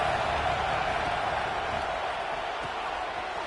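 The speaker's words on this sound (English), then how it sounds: "Big third down as the crowd gets behind this defense." Home crowd at a college football game against UGA roaring steadily on a big third down, a dense sustained stadium wash with no breaks, loud and enveloping throughout.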